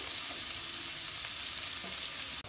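Onions fry in oil toward golden brown for Kashmiri pulao, a continuous close sizzle and crackle with no talk, ending in a short break.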